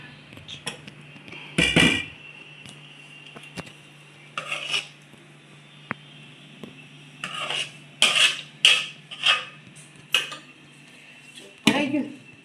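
A spoon scrapes and clinks against a metal pot while stirring a home-cooked dish, in bursts of sharp clatter separated by short pauses, close and fairly loud.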